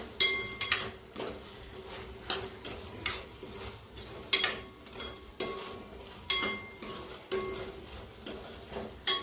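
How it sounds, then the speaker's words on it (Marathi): Val beans are stirred in a pan for a traditional Marathi birad, giving regular close scraping taps of a spoon against the pan every half second or so over a faint background sizzle. "वाळ टाकून घ्यायचा छान परतून घ्यायचं"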